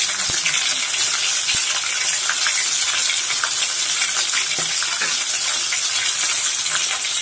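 Hot oil bubbles and sizzles in a pan with a loud, continuous hiss and crackle that stays steady throughout, with occasional faint pops and no voices.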